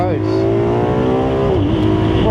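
A BMW R12S motorcycle changes gear with its quick shifter while riding, the loud engine note dipping briefly before pulling on steadily under a voice.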